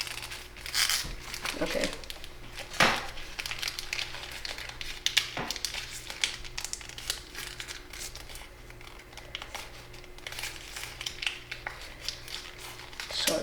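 Paper being creased and folded by hand while making an origami fiddler crab, with intermittent close crinkling and crackling over a steady background hum, and a person speaking briefly.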